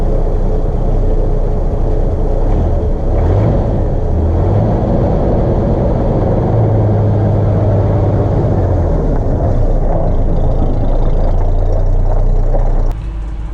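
A lowered Chevrolet with a rebuilt carburettor pulls away in first gear, its engine a loud, steady, close rumble that rises in pitch as it moves off and then cuts out at the very end.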